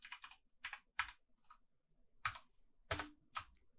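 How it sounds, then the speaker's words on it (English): Keys tapped on a computer keyboard in quiet, irregular bursts of clicks with short pauses, close and fairly faint, with no talking. "We type performance"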